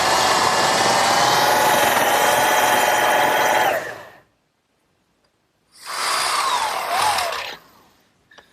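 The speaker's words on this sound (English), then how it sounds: "what I've just done is drilled a hole in this metal bracket" Power drill boring a hole through a metal bracket, a loud whining grind for about four seconds, a short pause, then a second shorter burst that winds down.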